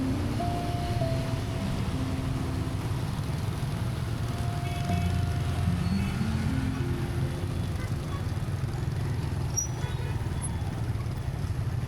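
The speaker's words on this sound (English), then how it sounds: "Traffic is quite heavy." Heavy rush-hour street traffic rumbles steadily through rain in Da Lat, Vietnam, with nearby engines, passing vehicles and a few tonal horn-like notes in a dense, continuous wash.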